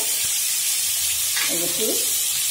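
Vegetables frying in a hot pan with a steady, loud sizzle and hiss throughout, joined by a short stirring scrape near the end.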